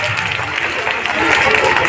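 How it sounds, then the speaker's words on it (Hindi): A crowd at a staged village comedy skit about a politician's interview claps loudly in a dense, continuous burst that builds slightly, with a low murmur of voices underneath. "जोरदार तालियां हमारे सभी के लिए।"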